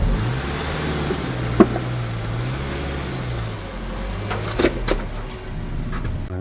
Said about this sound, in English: we're just going to drive the vehicle up onto the ramp